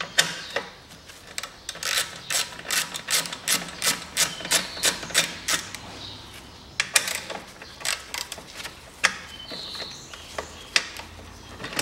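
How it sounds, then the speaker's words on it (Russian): Bolts come off a Viking MB 650 V lawn mower with a close, rhythmic series of sharp metallic clicks, like a ratchet wrench turning, in steady bursts that pause briefly and resume. "Сверху откручиваем болты."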